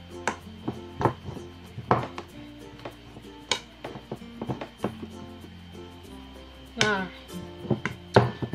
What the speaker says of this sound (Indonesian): Di sini Miss Mbuk mau ngehalusin ubi ungunya dulu